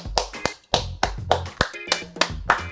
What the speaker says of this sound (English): Round of applause. Y'all can clap that up.